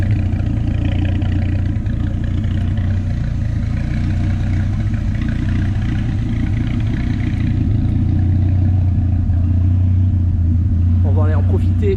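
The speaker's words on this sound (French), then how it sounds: "Un bruit vraiment particulier du V10." Dodge Viper RT/10 V10 idling indoors in a showroom, a loud, deep, steady rumble that holds throughout with a slight rise toward the end, while someone talks over it.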